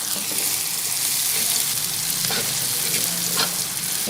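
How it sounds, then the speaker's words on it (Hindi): Garlic and ginger paste fries in oil with onions for beef karahi, giving a steady, close, continuous sizzle with occasional stirring scrapes and no speech. "1 से 2 मिनट तक फ्राई करें।"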